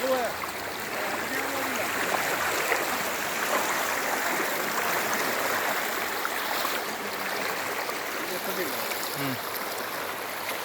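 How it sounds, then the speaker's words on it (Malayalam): Continuous rushing of floodwater flowing steadily over a road, a broad even roar throughout, with faint distant voices now and then beneath it. "ഈ റോഡ് വെള്ളം കയറി നിറഞ്ഞൊഴുകാണ്"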